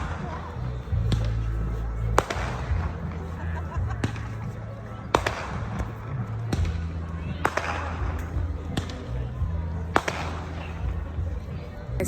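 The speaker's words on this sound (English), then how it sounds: "There's so many fireworks." Fourth of July fireworks going off in a series of sharp separate bangs and pops, some near and loud, over a steady low rumble of background noise.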